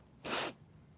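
A single sharp allergy sneeze bursts out, close and loud, in a quiet room; it ends quickly with no talking.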